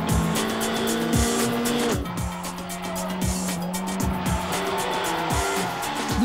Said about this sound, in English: The Belgian driver, Freddy Loix, is the first to take the wheel